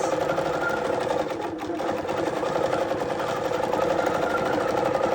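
Quilting machine stitching over embroidery on a quilt, a fast steady mechanical chatter of the needle running continuously at close range.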